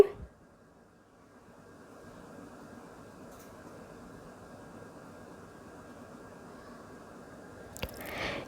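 Cashew barfi mixture stirred in a kadai over a low to medium flame gives a faint, steady soft squishing and scraping, with a brief louder scrape near the end.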